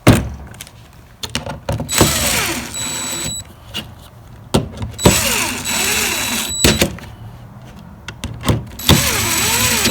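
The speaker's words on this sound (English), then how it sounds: "So I'm going to run them down with the gun and then we will torque them." Pneumatic impact gun running down bolts on a KTM 300 XC two-stroke engine during a rebuild, in several loud bursts of whirring and hammering separated by short pauses.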